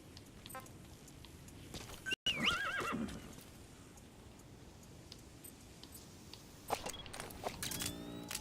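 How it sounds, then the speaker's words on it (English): A horse in Metal Gear Solid V: The Phantom Pain whinnies loudly in a short burst, then its hooves clip-clop along with a further snort or neigh near the end, over quiet game ambience. "Use your horse."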